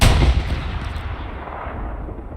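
A single heavy artillery blast in the World War II shooter Hell Let Loose booms at the start, then rolls off into a fading rumble of echo.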